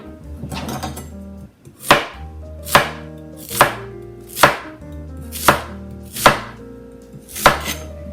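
A knife chops sunchokes, also called Jerusalem artichokes, into thin discs on a wooden board. Eight crisp, evenly spaced thunks sound close and loud, each with a short ringing tail, with no voices.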